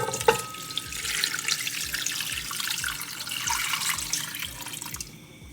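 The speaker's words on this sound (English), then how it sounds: "Pour in some water." Water runs and splashes steadily into a cooking pot for several seconds, a continuous pouring sound close by, ending abruptly.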